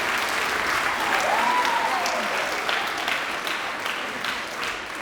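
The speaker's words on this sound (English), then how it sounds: "so let's give them a round of applause" Audience at a school spring band and choir concert clapping for the student crew, a sustained close wash of applause with a brief whistle near the start, tapering slightly toward the end.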